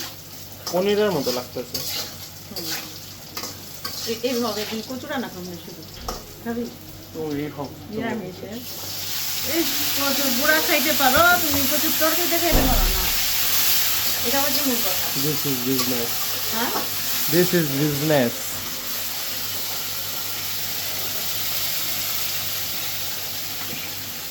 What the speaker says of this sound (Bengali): কচুটা একটু মাঝে ভাজা হয়ে গেছে